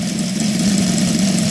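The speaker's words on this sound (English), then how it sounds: "So right now I'm idling around" A Mitsubishi Evo 7 engine, converted to run fully on gasoline, idles steadily with a continuous low hum and a fine mechanical knock, loud and close throughout with no talking.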